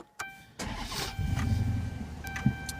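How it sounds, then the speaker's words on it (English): A Dodge Charger police car engine cranks briefly and catches, then settles into a steady idle close by, with no talking. "Let's fire it up."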